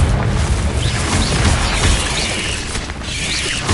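A Confringo fire spell explodes in the Hogwarts Legacy video game, a loud, dense, continuous blast of crackling rumble and debris-like noise filling the whole moment with no voices.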